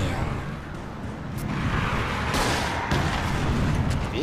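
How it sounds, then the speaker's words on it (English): Loud, dense gunfire and booming flashbang blasts from the game Alan Wake on Nightmare difficulty roll together in a continuous barrage, with heavy low rumble and a few sharper cracks. "we just gotta keep firing at her"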